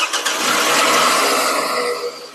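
A Toyota Camry engine cranks and catches, settling into a steady, loud mechanical run up close, with broad noise filling the short moment and no talk.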